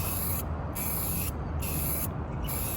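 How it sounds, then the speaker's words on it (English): An aerosol can hisses in three bursts, spray painting a car front lip for an Acura TSX, with short pauses between, close and steady, with no talking. "I'm just gonna continue to spray"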